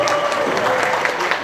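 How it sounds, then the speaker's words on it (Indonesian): Steady clapping from a crowd at a university oration, dense and sustained, with a voice faintly mixed in underneath. "Tepuk tangan ya"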